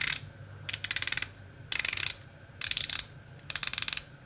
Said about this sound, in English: Ooh, 120 clicks. Very nice and clicky, but not harsh.